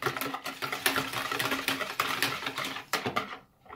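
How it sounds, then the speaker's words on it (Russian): A utensil stirs kefir pancake batter in a bowl, giving rapid, wet scraping and clicking strokes in a steady close rhythm that fades out at the end. "Все хорошо мешаем."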